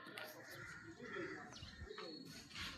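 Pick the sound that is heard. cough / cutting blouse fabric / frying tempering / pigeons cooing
pigeons cooing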